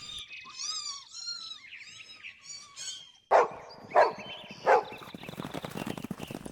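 Frightened kittens meow in a rapid string of high, wavering cries, then a dog barks three times, loud and close, over scurrying noise as the kittens flee.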